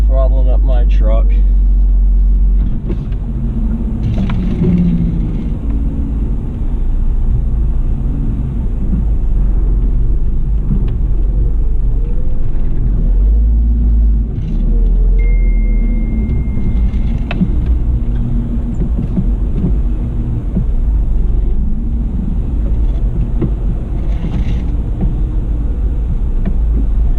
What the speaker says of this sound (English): throttling up my truck